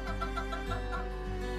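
Free-range heritage chickens cluck in a steady run of soft calls on a farm, close and moderately loud over a low steady hum.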